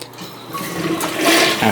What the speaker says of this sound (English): After flushing the toilet to ensure everything's clear